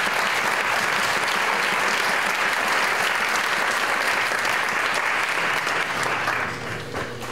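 A festival audience gives a sustained round of applause for the sponsors, dense and loud throughout, thinning slightly at the very end.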